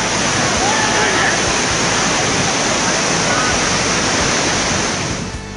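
The Varadayini waterfall in Raigad roars steadily and loudly up close, a dense, unbroken rush of falling water that barely eases before fading slightly at the very end.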